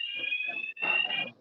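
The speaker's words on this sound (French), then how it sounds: "Oui, j'ai une alarme qui sonne." An electronic alarm rings in a home with a kitchen, a loud steady high-pitched tone that holds with a brief break near the middle, over faint background sounds.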